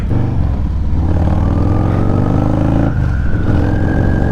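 Harley-Davidson Breakout motorcycle accelerating on a dealer demo ride, its engine a loud, close, steady throb that climbs in pitch through the gears, with no talking.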